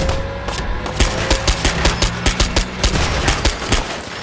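Rapid bursts of gunfire during a fight against a robot in Fallout 4, a loud, close, steady string of evenly spaced shots with no talk over it.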